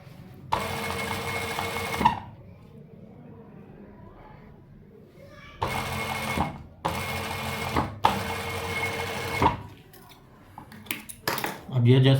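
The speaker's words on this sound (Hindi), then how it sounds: "ये ऐसे इसके ऊपर रख के दोबारा उसी सिलाई के साथ रगड़ के सिलाई लगाएंगे।" A sewing machine stitches down piping cord in several loud, steady whirring runs separated by short pauses, with a person talking in between the bursts of stitching.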